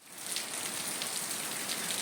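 Steady, dense rain pattering on a surface, a constant hiss of drops with no voices.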